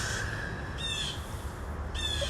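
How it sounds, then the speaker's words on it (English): A loud bird, likely a crow, gives two harsh cawing calls a second apart over a steady outdoor rumble of trucks and traffic. "There's a loud bird chirping in the background right now."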